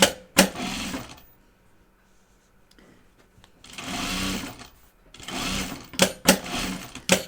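A sewing machine stitching lining to stiffener fabric in several bursts of rapid mechanical whirring, separated by quiet pauses and a few sharp clicks.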